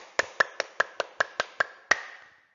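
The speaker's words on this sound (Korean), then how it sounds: "격려의 박수." Encouraging applause at the end of a class: about eight sharp, evenly spaced claps ringing out close and alone, the last one slightly louder and trailing off.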